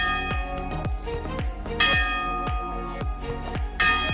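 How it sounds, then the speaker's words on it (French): A church bell tolls repeatedly near the Amalfi Coast, each strike ringing out with a long, shimmering decay, loud and close, with a heavier accented strike roughly every two seconds. "N'aie pas peur. C'est qu'une cloche."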